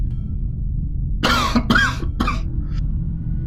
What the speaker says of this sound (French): Une toux.